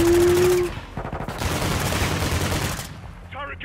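Rapid automatic turret fire rattling through a Call of Duty: Modern Warfare II firefight, dense overlapping bursts at full loudness for most of the stretch before thinning out near the end.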